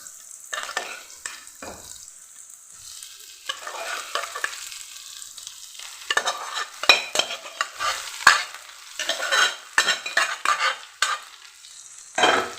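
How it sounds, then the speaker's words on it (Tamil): Potatoes and onions frying in a pan for a potato stir-fry, stirred with a utensil in repeated scraping, clattering strokes over a light sizzle, close and uneven in rhythm, with no talking. "இப்போ நல்லா கலந்து விட்டுக்கலாம்"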